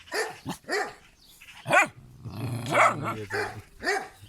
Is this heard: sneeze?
no